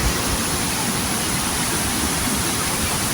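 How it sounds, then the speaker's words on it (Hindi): A waterfall near Mousala in northern Iran, swollen with rainwater, gives a dense, steady roar of rushing, crashing water. The sound stays loud and close throughout with no letup. "आबशार प्लस हो गई है बारिश के पानी की वजह से।"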